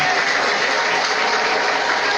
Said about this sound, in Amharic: አጨብጭቡ። ለጌታ ክብር ይሆንለት።